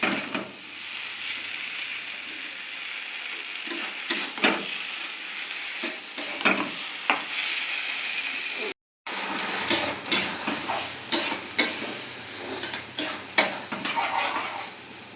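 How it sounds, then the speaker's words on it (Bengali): Eggs being stir-fried in masala for egg curry: a steady pan sizzle runs throughout, broken by repeated scraping and clinking from a spatula working the pan, with one brief dropout midway. "ডিমগুলো দিয়ে এবার নাড়াচাড়া করে ভালো করে"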